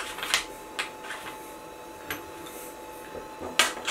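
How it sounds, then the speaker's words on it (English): Quarter-20 all-thread rod pieces screw into quarter-20 T-nuts set in the bottom of a CNC table, giving a few separate metallic ticks and scrapes spread across a quiet background, close and moderately loud, with no talking. "So these just thread in."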